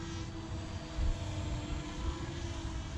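Yuneec Breeze 4K selfie drone in flight outdoors, a steady whirring propeller drone with a constant tone and a low rumbling background, no voices.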